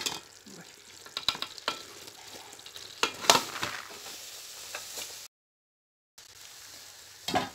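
Boiled rice tipped into a pot of murtanjan simmering over a very low flame: soft scraping, stirring and sizzly bursts close by, broken by a brief silent gap.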